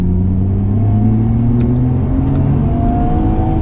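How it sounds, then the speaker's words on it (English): Nissan R34 GT-R climbing an uphill road, its engine revving in a loud, steady whine whose pitch rises gradually, close up and without talking. "Driving the R34 GTR on this uphill is a joy."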